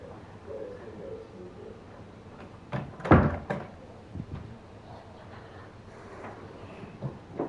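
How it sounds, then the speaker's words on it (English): An indoor door is pushed shut in a quiet house, giving one firm thud with a short rattle and a few softer knocks around it, close by, with no talk. "Let me go see if I can close the door real quick."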